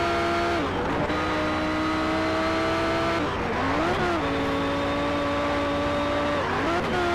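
An American race car in Need for Speed: Shift 2 roars through a track at high revs, its engine note climbing steadily and dropping sharply at each gear change, loud and close with faint tire noise.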